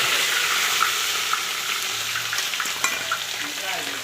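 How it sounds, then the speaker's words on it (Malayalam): Garlic ginger paste sizzles and fries in hot coconut oil with mustard seeds and fenugreek for a pickle on a cooking stove, a steady close hiss with small pops and stirring, without talk. "വെളുത്തുള്ളി ഇഞ്ചി പേസ്റ്റൊക്കെ"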